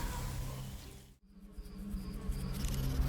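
Dense insect-like buzzing of a bee swarm in a video game hums continuously, cutting out for an instant before swelling back louder.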